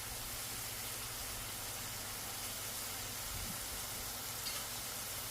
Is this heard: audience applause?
no